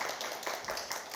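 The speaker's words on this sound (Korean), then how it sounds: "우리 큰 박수로 환영하시겠습니다" A church congregation in Vancouver claps to welcome a visitor, a faint, even patter of applause that stays steady throughout and carries no talk.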